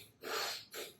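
A forceful nasal breath demonstration: a strong, hissing push of air through the nose, followed by a second shorter burst, close and alone with no talking.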